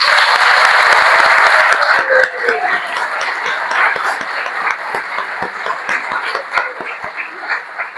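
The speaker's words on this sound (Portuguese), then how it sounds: "eu quero uma salva de palmas para o querido e amado Almir Rush" An audience at a talk gives a round of applause for a guest, a loud dense clapping that thins after a couple of seconds into scattered individual claps.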